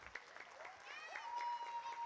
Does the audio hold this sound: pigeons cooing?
no